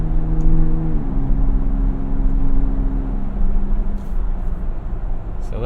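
A 2022 Ford Bronco Raptor's engine holds high revs, then drops in pitch as the gas pedal is released and the revs hang briefly before easing down, a loud, close, steady drone.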